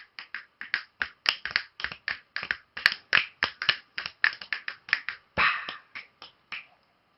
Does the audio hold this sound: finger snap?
yes